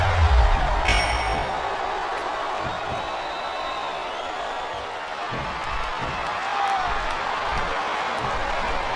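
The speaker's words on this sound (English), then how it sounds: "listen to that chant, Taz" A wrestling video game crowd fills an arena with a steady, loud roar of chanting and cheering, sustained without break, with a brief bell-like ding near the start.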